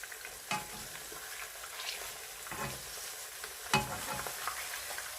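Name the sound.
plantain burger patty frying in hot oil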